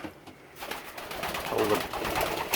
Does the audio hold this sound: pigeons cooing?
yes